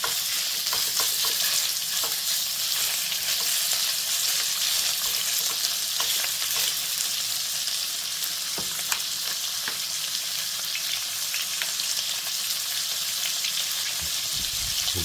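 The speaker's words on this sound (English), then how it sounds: "this pan's getting nice and hot, so put in some of the beef" Pieces of shin beef sear in a hot pan, a loud, constant crackling sizzle heard close up for the whole stretch, with occasional faint clicks and a brief shuffle near the end, no voices.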